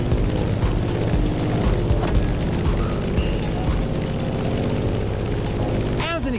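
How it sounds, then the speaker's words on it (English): A Grumman F8F Bearcat's piston engine and propeller drone steadily and loudly, close and unbroken, with a brief rising whine near the end. "In the cockpit of a stunning Grumman F-8F Bearcat, or simply the Bear."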